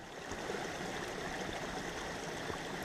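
Water rushing steadily through a sluice while gold prospecting in Todmorden, UK, heard as a continuous broadband stream-like wash with no breaks and no talk.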